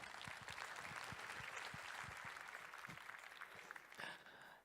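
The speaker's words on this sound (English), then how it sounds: "we could have a very welcoming Brighton SEO round of applause" Brighton SEO conference audience applauding to welcome a speaker to the stage, a steady dense wash of many hands clapping throughout with individual claps standing out, swelling briefly near the end.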